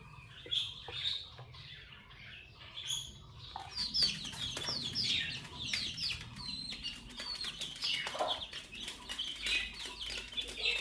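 Village household chickens being given feed cluck and squawk in irregular bursts with wing flapping, close by and fairly loud, with no talk.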